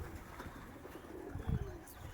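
Soft, low cooing from a pigeon inside a pigeon loft, faint and distant, with a few quiet rustles and light chirps around it.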